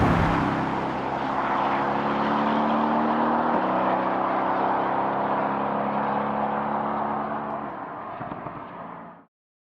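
Mercedes-AMG GT C sports car cruising at speed, a steady broadband rush of wind and road roar with a low engine drone underneath, holding loud and constant before fading out at the end.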